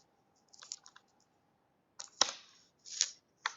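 Bursts of computer keyboard typing, a few quick key clicks followed after a pause by several louder, sharper strikes, close and clear with no talk.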